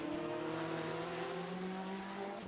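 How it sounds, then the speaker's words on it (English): Ferrari and Porsche race cars in a sim racing game at Sebring, engines droning steadily with layered harmonic whine as they run close together, continuous and moderately loud throughout. "the Ferrari chasing the Porsche"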